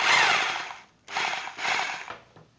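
A 2020 hammer drill runs in rotation mode in short bursts, whirring and rattling mechanically with brief pauses between the runs, close and moderately loud.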